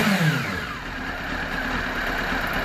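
Honda CB1 motorcycle engine blipped after carburetor balancing, a throttle rise that falls back into a steady near idle, running alone without talk.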